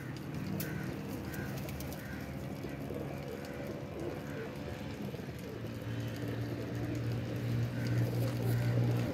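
Blue pigeons cooing in a loft, a low steady murmur of several birds close by, with soft rustling and faint background noise throughout.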